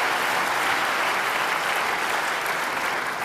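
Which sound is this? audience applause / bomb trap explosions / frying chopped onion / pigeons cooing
audience applause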